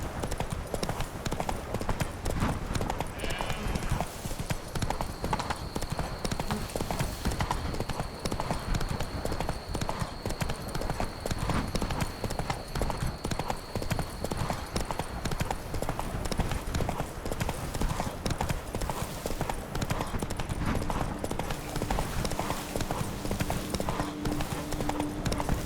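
Roach the horse's hooves clip-clopping steadily in The Witcher 3, a continuous trotting rhythm over game ambience and a sustained tone, lasting the whole stretch without a break.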